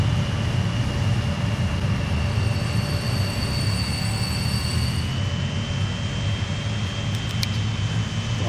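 Trains running in the Transport Fever 2 video game, giving a steady, loud rumbling roll with faint tonal whines and a squeal, continuous throughout without talk.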